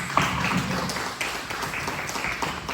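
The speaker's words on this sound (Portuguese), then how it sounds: "Aplauda o Senhor, amados" A church congregation applauds steadily, a broad wash of many hands clapping at moderate loudness, heard alone without talk for a few seconds.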